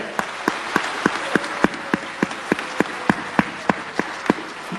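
At a business seminar, the audience claps in rhythmic unison: sharp, evenly spaced claps, roughly three per second, repeat steadily over a soft background murmur.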